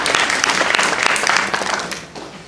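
An audience at a meeting gives county commissioners a burst of applause, dense clapping that holds strong and then fades over a couple of seconds.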